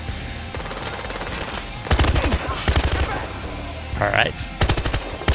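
Rapid automatic P90 fire in the Battlefield Hardline campaign, several loud close bursts separated by short pauses, with a brief spoken remark between them.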